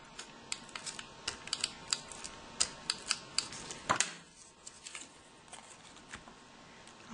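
A tape runner lays adhesive down the center of an emboss-resist card, heard as a quiet series of sharp clicks and taps with a brief rasping pull midway.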